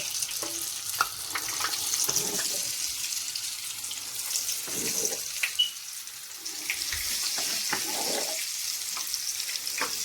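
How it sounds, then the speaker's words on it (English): Akara bean fritters frying in hot oil, a steady close sizzle and bubbling crackle running throughout with a few brief clinks and stirs on top. "When it bubbles from down, then you know that the oil is ready. Then you can now put your akara in."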